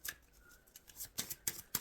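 A Beltane tarot deck is shuffled by hand, giving soft papery riffles and several sharp crisp card snaps near the end, close and quiet with no talking.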